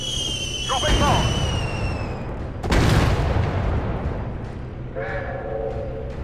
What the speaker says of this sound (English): Dropping bomb!